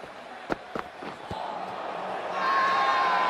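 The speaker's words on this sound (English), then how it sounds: "There's an almost tangible fervour throughout the crowd at the moment" Stadium crowd in the Cricket 24 video game, a broad roar that swells and grows louder toward the end, with a few sharp thuds early on.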